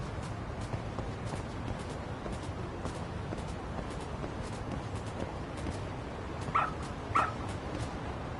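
In the video game Lost Judgment, a dog lets out two short, sharp yips near the end, rising briefly above a constant hiss of background ambience.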